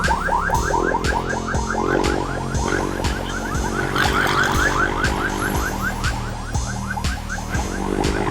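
An ambulance siren wails close by in a loud, rapid, repeating warble that continues steadily throughout.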